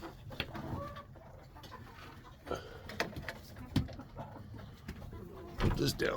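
Backyard chickens and other fowl cluck and coo in short, irregular bursts close by, mixed with scattered thuds and handling noises while a person talks intermittently.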